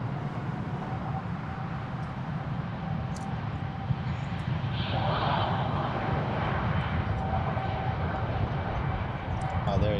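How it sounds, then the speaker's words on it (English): A Boeing 787 Dreamliner jet at Frankfurt Airport produces a continuous broad engine roar with a whining tone, steady and fairly loud throughout, while a person talks over it. "It was the Dreamliner to Hyderabad."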